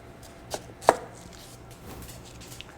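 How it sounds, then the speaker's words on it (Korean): A knife cuts a beetroot in half on a board lined with parchment paper, giving one or two sharp, close chopping thuds against otherwise quiet room tone. "비트를 반으로 자를 거예요."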